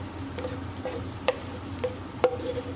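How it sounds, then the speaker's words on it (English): A rice and lentil mixture for Persian adas polo being stirred in a pot, with a few soft scraping clicks of a spoon against the pot over a quiet background, no talking. "we're just going to very carefully mix this together and get it all combined"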